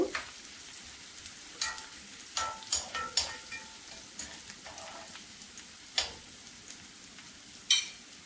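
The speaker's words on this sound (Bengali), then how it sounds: "পেঁয়াজ রসুন হালকা গোল্ডেন কালার করে ভেজে নেব।" Onion and garlic frying in a pan, giving a soft steady sizzle with scattered sharp clicks and taps from stirring, moderately close, with no voices.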